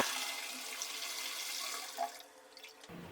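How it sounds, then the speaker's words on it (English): Toilet flushing after a dose of Hessa Kalkbort descaler mixed with water: a steady close rush of running water that tapers off near the end, with no talk. "Let's turn on the water and flush it and see the result."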